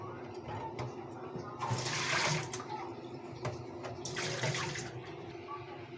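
Raw meat pieces, ten of them, rubbed and squeezed by hand under running tap water, a steady close splashing stream with two louder bursts of washing.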